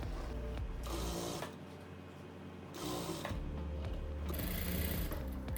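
A sewing machine stitches a quilt's lining to the ribbon of its last row, running in steady mechanical bursts, loud and close. A brief pause breaks it before it starts up again and keeps going.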